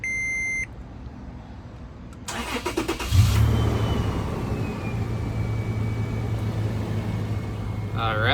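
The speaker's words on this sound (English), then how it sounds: "I'm gonna go ahead and connect the battery and we're gonna start the car up." A 2007-2014 Toyota FJ Cruiser starts up: a warning chime, then the starter cranks in rapid pulses before the engine catches and settles into a steady idle, close by, with a faint whine and a person speaking.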